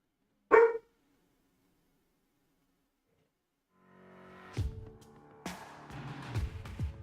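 A dog gives one sharp, loud bark close by, followed by a few seconds of silence. Soft rustling and clattering noises build up afterwards.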